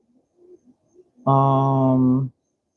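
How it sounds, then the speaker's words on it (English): A bird outside an open window gives a single loud, sustained call lasting about a second, following a few faint, scattered murmurs. "Maybe a bird."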